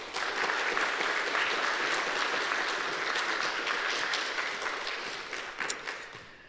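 Lecture hall audience applauding to welcome a research speaker, dense sustained clapping from many hands that stays full for several seconds before beginning to thin and fade.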